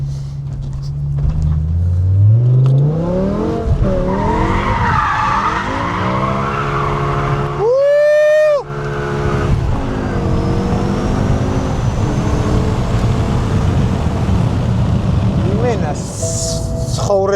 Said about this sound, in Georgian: დიდი ალბათობით საბურავები უკვე აღარა გვაქვს და მაგიტომაც გვიტრიალდება ავტომობილი.